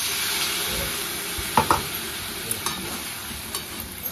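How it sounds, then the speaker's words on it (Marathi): Eggplant and drumstick curry with water just added, stirred in a pan: a steady sizzling hiss runs throughout, broken by a few sharp scrapes and clinks of the spoon against the pan. "पाणी ओतून छान असं मिक्स करून घेते।"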